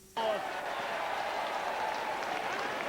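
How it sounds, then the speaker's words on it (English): Roosters football fans applaud a goal at an Aussie rules match, a broad wash of clapping and crowd noise rising suddenly and holding steady, loud and dense throughout. "Roosters fans belated applause."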